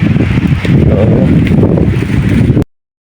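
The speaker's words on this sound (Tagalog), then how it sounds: "O kasi ang lakas ng hangin eh, no?" Strong wind buffets the microphone in a continuous loud roar, then cuts off abruptly.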